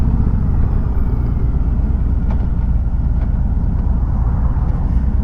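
A Harley-Davidson Road Glide motorcycle ridden through curves, heard as a loud, continuous low engine rumble with faint wind noise and no talk.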